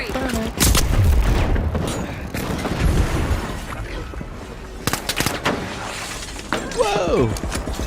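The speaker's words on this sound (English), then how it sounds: "Tossing a flashbang." A flashbang grenade tossed and detonating in a video game gives sharp, loud bursts of shattering blast noise amid gunfire-like cracks, with a voice reacting over the action.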